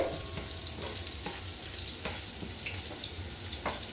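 Garlic sautés in a pan for pancit Malabon, a continuous moderate sizzle with faint stirring taps scattered through it, heard alone and fairly close.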